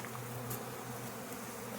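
Honeybees buzz in a soft, continuous drone during a package installation, close but faint, with no other sounds.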